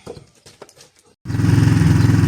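A Geon GNS 300 motorcycle engine starts abruptly and settles into a loud, steady, close idle with a rapid pulsing throb, preceded by a few seconds of scattered clicks and knocks from work on the bike.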